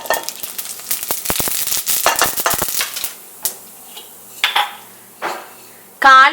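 Mustard seeds crackle and spatter in hot coconut oil in a pan, a busy burst of sharp pops and sizzle that thins into a few scattered spits and clinks, loud and close with no voices.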